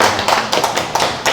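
Audience applause at a hospital health lecture, a steady patter of many hands clapping close by with slightly uneven bursts, no talking.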